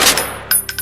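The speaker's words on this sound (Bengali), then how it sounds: "ঘরের ভেতর যখন তখন গুলির শব্দ শোনা যায়" Gunshot sound effects in a spooky setting inside a house: a loud opening crack followed by three quicker sharp reports, clean and close with no talking.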